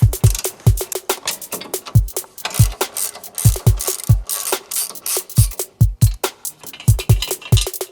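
A ratchet wrench loosens the bolts on a 10th-generation Honda Civic Turbo's beam reinforcement, giving steady rhythmic clicking in quick, close, repeated strokes with brief pauses and no talk.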